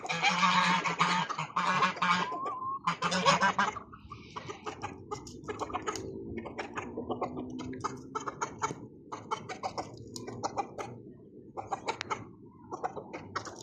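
Hens and roosters being fed bread cluck and squawk loudly at first, then a busy flock keeps up a steady stream of clucking and calls.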